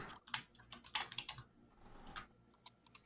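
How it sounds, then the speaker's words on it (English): Quiet, irregular computer keyboard typing, with bursts of keystroke clicks and short pauses between them, close and alone. "Ryan, stop typing in chat right now."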